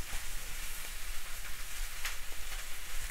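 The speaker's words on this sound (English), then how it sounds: "while the cabbage is browning, I'm going to start making the dumplings" Cabbage browns in a pan with a soft, steady sizzle and faint crackles, quiet and continuous with no talk.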